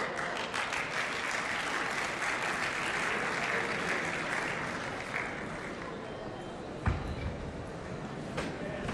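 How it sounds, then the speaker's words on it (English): Loud, sustained applause from a seated audience at a gala awards night, steady clapping filling the hall for the full stretch with a brief louder burst near the end. "Applause right down before you got to the stage."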